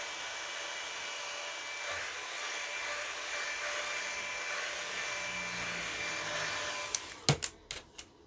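A hair dryer blows on hair with a steady, close whirring drone that runs unbroken, then ends in a few sharp clicks and knocks as it is handled.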